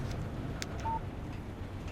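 Phone keypad tones in the video game Alan Wake: a single short, quiet electronic beep over a low background hum, no talking.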